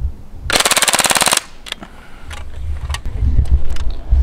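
A full-auto rifle fires one sustained, loud burst of rapid, evenly spaced shots lasting about a second, followed by quieter scattered clanks and outdoor rumble.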